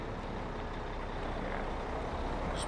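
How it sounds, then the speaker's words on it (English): A truck engine in the video game Farming Simulator 17 idles as a steady, low droning rumble, faint and unbroken throughout, with no voices. "And we can go just park our truck over here."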